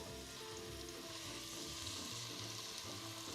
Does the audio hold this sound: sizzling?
yes